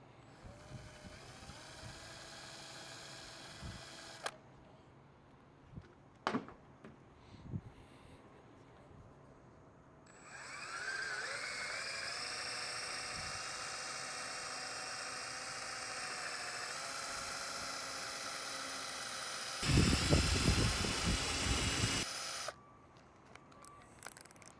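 A small mini buff wheel polishes copper and brass, whirring steadily in long stretches separated by pauses and short clicks, with one louder, harsher burst near the end. The sound is faint overall and no one talks.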